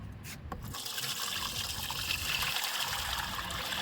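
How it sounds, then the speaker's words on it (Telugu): Liquid fertilizer pours steadily into a large plastic tub of about 45 liters, a continuous close splashing trickle that runs the whole time after a brief start. "ఈ టబ్లో పోసుకుందాము"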